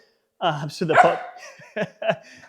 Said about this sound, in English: So super normal bark